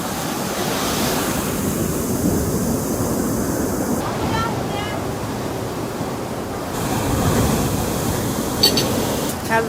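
High-tide ocean surf on a Bali beach roars steadily as broad, continuous wash with wind buffeting the microphone, loud and close, with no clear break between waves.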